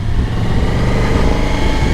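A Suzuki V-Strom 1050 DE motorcycle engine runs at light throttle through a roundabout, a steady, close, continuous rumble with no change in revs.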